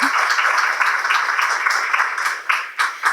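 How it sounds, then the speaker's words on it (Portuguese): A festival audience applauds during a talk at a documentary film festival, a steady, dense wash of many hands clapping that swells slightly toward the end. "Gente, ela merece palmas."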